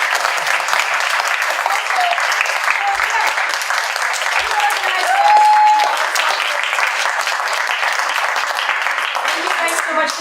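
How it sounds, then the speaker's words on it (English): A candlelit storytelling crowd in a Tacoma venue claps for the performers, sustained loud applause with a brief whistle partway through. "Let's have a round of applause for them."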